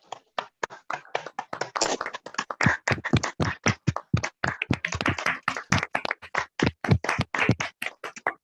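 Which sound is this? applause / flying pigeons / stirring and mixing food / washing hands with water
applause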